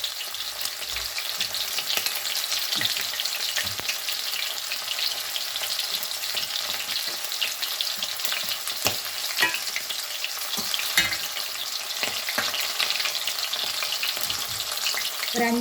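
Prawns for prawn 65 frying in hot oil, a steady dense sizzle that stays loud and even throughout, with occasional faint clicks and pops of the pan.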